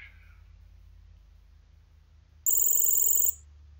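A shrill electronic telephone bell rings in one short burst, loud and close, over a low steady hum in a game.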